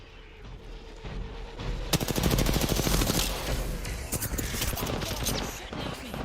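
Automatic weapon fire in the battle-royale shooter Apex Legends erupts in rapid, loud bursts of crackling shots after a quieter opening, continuing in stuttering volleys with faint game ambience beneath.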